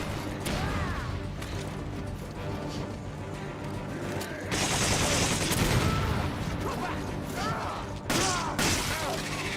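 Gunfire from the video game Resident Evil 5 bursts repeatedly amid clanking mechanical game effects and crashes, growing louder and denser in the second half, with faint voices underneath.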